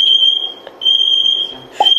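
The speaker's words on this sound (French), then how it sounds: "C'est l'alarme à incendie." A smoke alarm set off by food burning in a frying pan sounds a loud, steady, piercing electronic tone that drops out briefly and resumes, with a short clatter near the end.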